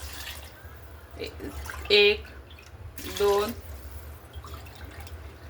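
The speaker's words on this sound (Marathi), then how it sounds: "आता आपण याच्यामध्ये पाणी घालू।" Water poured into a pot of rice for a veg soya peas pulao, heard as two short splashing pours about a second apart, close and moderately loud, with a person talking around them.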